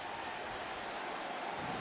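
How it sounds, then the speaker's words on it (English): A college football stadium crowd cheers at Syracuse, a dense, distant wash of noise that stays steady and fairly faint throughout. "the crowd likes it"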